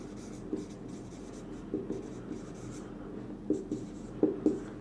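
Chalk or marker taps and scratches on a board during a maths lesson on differential equations: scattered short strokes in small clusters over a low room hum, with no voices.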